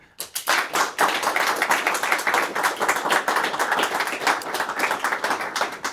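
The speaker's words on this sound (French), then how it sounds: "on peut encore une fois faire des applaudissements pour toutes les équipes dans le public" A live audience applauds the competing teams at a steeplechase-style event, a dense, sustained burst of many hands clapping close by that swells within a second and holds steady to the end.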